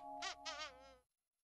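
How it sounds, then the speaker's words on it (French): A yellow bee with black stripes buzzing near a window, two short, close, nasal buzzing bursts about a second long in total, then silence. "l'abeille jaune à rayures noires qui vole près de la fenêtre"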